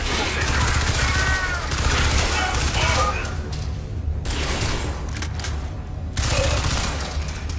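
Heavy bursts of Crysis 3 gunfire rattle in close, continuous volleys with a couple of brief gaps, loud against a steady low battle rumble.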